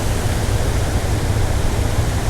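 Fast, strongly flowing river water makes a steady, close hiss and roar, unbroken and uniform from start to end with no voices.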